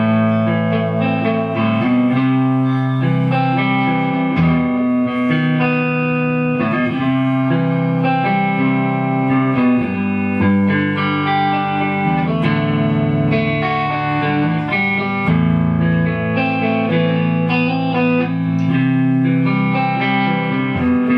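Clean electric guitar, a Gibson Les Paul Custom on its neck pickup with volume fully up, through a Peavey 6505MH amp, playing a sustained steady passage of chords and notes, dry and alone without talk.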